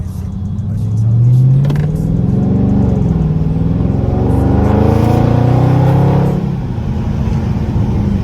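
A Dodge Charger 392 Scat Pack cruising in auto mode, a loud, steady, deep engine rumble from the cabin with gentle rises and falls in revs as it drives.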